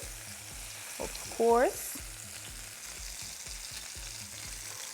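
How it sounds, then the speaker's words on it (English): Chicken pieces sear in a hot pan with a steady, soft sizzle running throughout, while a short burst of voice briefly rises above the frying. "I'm going to place my chicken in. for a nice, beautiful searing"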